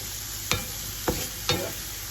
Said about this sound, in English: I'm starting off by sauteing some onions. I've gone ahead and added the rinsed beans.